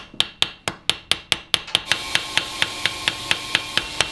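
Light hammer taps strike a rivet set on a paring knife being made, about seventeen crisp metallic ticks in a steady rhythm, the first several slower and louder, then quicker and softer, close and alone.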